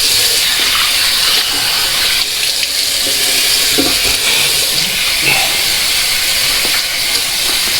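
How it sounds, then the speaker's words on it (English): Cold water runs steadily from a tap into a sink for a face rinse after a shave with an open-comb safety razor, a constant loud hissing splash with no speech. "We're going to give it a cold water rinse."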